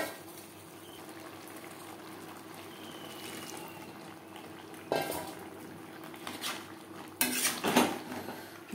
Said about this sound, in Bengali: মাছের মাথার সাথে লাউ বেশ ভালো করে মিক্স করে দেবো।